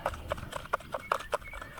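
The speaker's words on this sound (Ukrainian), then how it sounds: "Я його так розмішую" Fishing groundbait being stirred by hand with maggot flour mixed in, giving a quick, rhythmic series of soft scraping, clattering bursts, close and fairly quiet.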